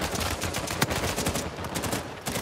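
Gunfire and grenade launcher blasts in Uncharted 4 multiplayer, a dense stretch of rapid shots and bursts with no clear gaps.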